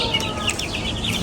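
Several roosters and hens cluck close by in a poultry yard, and brief calls overlap over a steady background.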